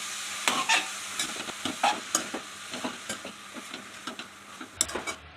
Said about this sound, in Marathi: तर आता तूप गरम झालंय, त्याच्यामध्ये गाजर टाकते।